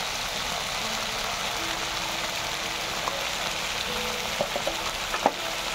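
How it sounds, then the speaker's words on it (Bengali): Onion and green chili paste, with tomato paste, fries in a pan for a rohu fish dish, making a steady, soft sizzling hiss broken by a few faint clicks near the end. "এই সবগুলো দিয়ে আমি খুব ভালো করে কষিয়ে নেব।"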